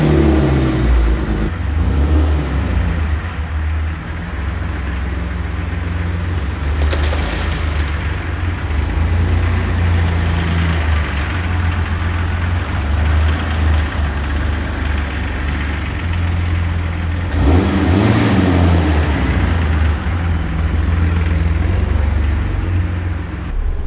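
A Jeep TJ's engine drones steadily while driving slowly with wide turns, a loud, continuous rumble with brief surges of revving and rattling, no voices heard.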